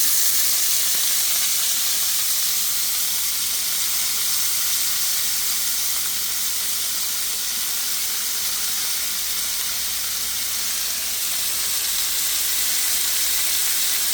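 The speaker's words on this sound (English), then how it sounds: "I love that sizzling sound." Peppers and onions saute in hot oil in a pan, giving a loud, continuous hissing sizzle that holds evenly for the whole stretch with no talking.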